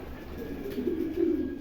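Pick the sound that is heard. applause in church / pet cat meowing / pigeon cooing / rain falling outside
pigeon cooing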